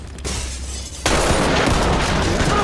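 Sharp blast from a stinger grenade or beanbag shot in a non-lethal co-op tactical shooter, bursting loudly about a second in and leaving a dense, sustained roar behind it.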